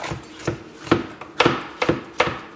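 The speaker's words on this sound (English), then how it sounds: "I'm just making a nice little julienne of my peppers." A sharp kitchen knife slices peppers into julienne strips on a board, with steady rhythmic chops about every half second, close and crisp, no talking.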